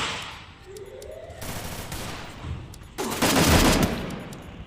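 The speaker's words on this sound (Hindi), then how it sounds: "गोलीबारी शुरू हो चुकी है" Gunfire crackles in the mobile battle game Free Fire, starting with scattered shots and swelling into a loud, dense burst of rapid automatic fire near the end.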